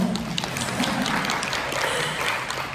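Dense, steady applause fills a seminar hall during a Korean growth-camp lecture, a crowd clapping continuously at even loudness throughout.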